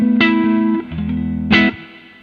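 Distorted electric guitar chords ring through a Boss Katana 50EX Gen 3 amp with added reverb, two strummed hits with a short bend between, each decaying into a reverberant tail.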